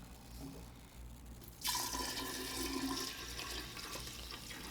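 Pomegranate juice poured into a mead fermentation vessel gives a sudden rushing, splashing stream of liquid that starts partway through and runs steadily, close by and fairly loud.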